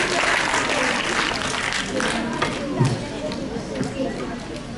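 Applause from a school audience at an interclass patriotic quiz competition, a steady dense patter of many hands lasting several seconds, fairly loud and close, with some voices mixed in.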